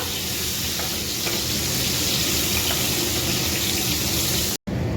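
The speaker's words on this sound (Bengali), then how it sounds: "প্রথমে পটলটা একটু ভেজে নেব।" Pieces of pointed gourd (potol) fry in oil, producing a loud, continuous close-up sizzle and bubbling that holds steady before cutting out abruptly for a moment near the end, with no speech.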